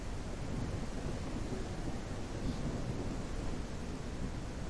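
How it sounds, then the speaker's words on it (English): A raging thunderstorm at sea in the middle of the North Atlantic Ocean, a dense, loud, continuous roar of rain, wind and rumbling thunder filling the whole stretch with no pauses. "that is a thunderstorm, a raging thunderstorm"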